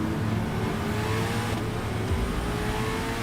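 A Chevrolet Corvette ZR1X accelerates hard on a race track, its engine roaring loudly with rising pitch through gears, close and continuous without talk.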